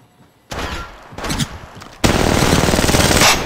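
Rapid automatic gunfire in the battle-royale shooter Apex Legends, loud and close, with a short burst followed by sustained continuous firing that fills the rest of the moment.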